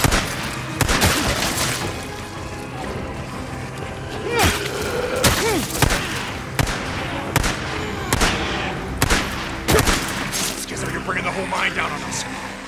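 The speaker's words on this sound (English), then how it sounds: "Schizo, stop shooting!" Gunfire from the Days Gone video game crackles in sharp, repeated bursts, with scattered shots spread through the clip under a continuous bed of game ambience and voices.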